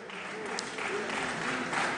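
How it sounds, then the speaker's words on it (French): Deputies in the French National Assembly applaud during the government's general policy declaration, a soft, continuous patter of distant clapping with faint voices and murmurs mixed in. "Merci à nouveau de vos applaudissements"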